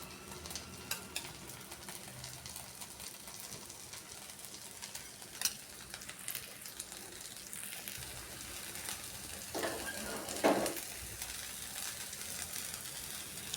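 Onion buttermilk dosa sizzles in oil on a hot pan, a steady soft crackle running throughout with a few sharper spits and bursts partway through, no talking.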